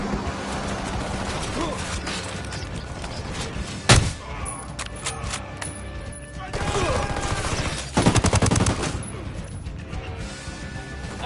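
Video game gunfire crackles in dense, rapid volleys amid crashes and sharp impacts, loud and close, with some background chatter between bursts.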